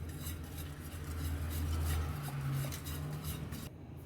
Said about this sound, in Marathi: आता याला छान असं ढवळून घ्यायचं.